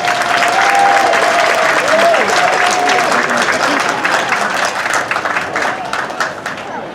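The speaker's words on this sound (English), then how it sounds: "Another round of applause for Lorraine Agtang." Audience at a 2024 Philippine Weekend community event applauds Lorraine Agtang with loud, sustained clapping mixed with cheers and calls, gradually thinning into scattered claps toward the end.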